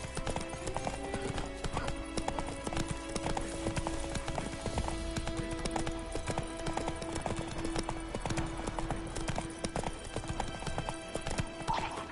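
Roach, a horse in The Witcher 3, trots with steady, continuous clip-clop hoofbeats close by, a brief neigh in the mix, over music and ambient sound.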